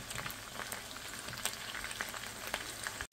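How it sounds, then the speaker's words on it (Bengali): Chicken chap pieces fry in a pan with a steady crackling sizzle and scattered pops, close and even throughout, no voices. "এভাবে আমি সবগুলা ভেজে নেব।"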